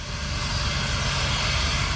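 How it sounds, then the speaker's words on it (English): A jet plane at a race circuit airfield during the Goodwood Festival of Speed gives a steady, loud, broadband roar with no breaks, close by and with no voices. "Jet plane home."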